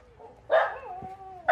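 Puppies from a litter with docked tails give two short, high barks indoors, loud and close, with a thin whine stretching between them.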